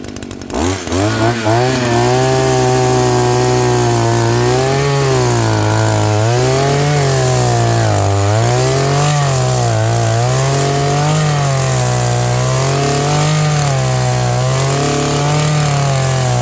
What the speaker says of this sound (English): this is the VEVOR 52cc gas auger